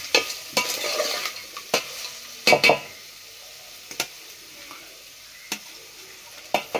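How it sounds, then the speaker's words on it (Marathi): Whole spices and onion sautéing in a pan for chicken biryani cooked over a wood-fired stove, with a steady low sizzle broken by several sharp scraping stirs of the utensil against the pan, close and fairly quiet. "खडा मसाला आणि कांदा लालसर होईपर्यंत तो परतून घ्यायचा."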